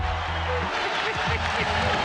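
Crowd at an NBA game applauding and cheering, a dense wash of clapping under a person talking over it.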